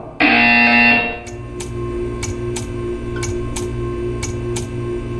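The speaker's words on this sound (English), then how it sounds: "You will hear a buzzer." A loud, harsh electronic buzzer in Portal 2 blares for about a second, followed by a steady hum and a run of regular sharp ticks.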